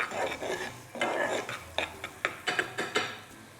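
A spoon stirs paprika into a sizzling refogado in a pan, with soft scraping at first and then a string of sharp, regular clinks of metal against the pan, close and clear with no talk over it.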